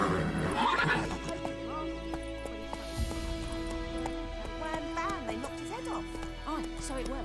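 Roach, the horse in the video game The Witcher 3, neighs with a loud wavering whinny near the start, then gives softer snorts and calls over hoofbeats and background game music, while a voice speaks.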